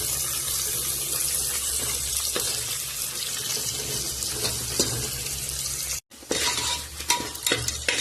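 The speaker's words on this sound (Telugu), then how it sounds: "క్యారెట్ని వేసాక మళ్ళీ కొంచెం ఫ్రై చేసుకోవాలన్నమాట" Carrots and other vegetables frying in a pressure cooker for vegetable biryani, with a steady hiss of sizzling oil and occasional stirring scrapes, plus a brief pause near the end.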